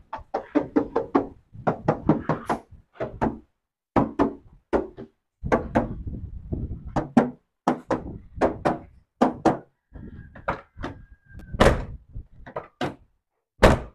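Doors of a black 2000 Isuzu Panther LS being shut one after another in a showroom, a series of sharp thunks and knocks spaced through the clip, loud and close, with a few brief voices between them.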